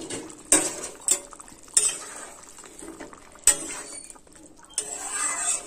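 Pieces of fried fish go into a pan of simmering curry, with several sharp metallic clinks of a utensil against the pan, stirring scrapes between them and a rising bubbling sizzle at the end.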